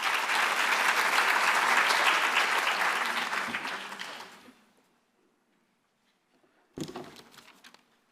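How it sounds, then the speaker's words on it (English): Audience applause rings out at an industry and stakeholder forum, steady and full for about four seconds before fading to silence, followed by a short thump near the end. "Can we please give a round of applause?"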